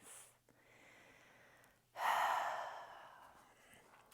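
Breath work at the end of a chair yoga practice: a soft inhale followed by a longer, louder, airy exhale close to the microphone, with a quiet breath before it.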